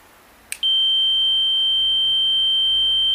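After a short click, a Videotronic XRC4 bite alarm receiver for carp fishing emits a loud continuous high electronic tone, steady and close, signalling that the bite alarm was switched off.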